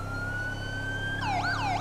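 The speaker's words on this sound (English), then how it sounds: "Whenever you use the siren, you really, really give up your left thumbstick" Police car siren in GTA 5 with the LSPDFR mod: a steady high tone holds for a second, then switches to a fast rising-and-falling wail over a low engine rumble, loud and close.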